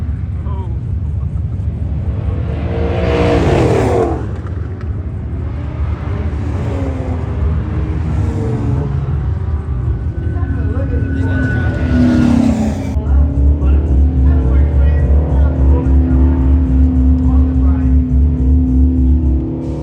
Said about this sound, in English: next up we've got the Bullet burnout truck. It's got 2 big V8s